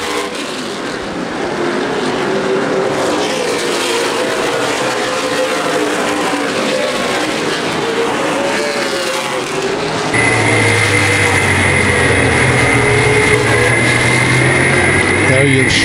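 Race cars roaring around Anderson Speedway during a CRA Super Series race, a loud continuous engine drone with a shifting pitch, under race commentary.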